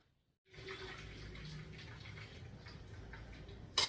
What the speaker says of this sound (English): Now I'm going to drain the excess water from this microwave bowl.